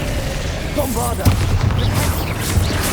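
A Bombarda spell blast in Hogwarts Legacy, a sharp booming burst with a rumbling tail, heard close amid spoken spell shouts and combat noise.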